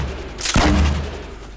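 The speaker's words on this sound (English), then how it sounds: "Oh, no, that's a grenade launcher. Pick it up. Shoot." A single heavy blast from a grenade launcher fired in the Fortnite video game, a sharp burst followed by a rumbling boom that fades over a second or so.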